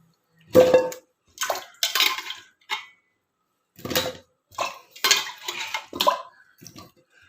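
Water splashing into a pot of washed taro in several separate pours of a second or so each, close and fairly loud, with short pauses between.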